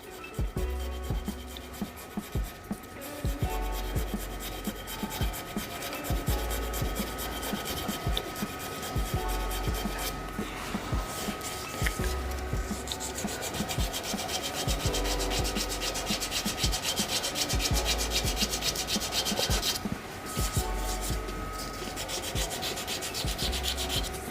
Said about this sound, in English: give it a bit of a hand sand now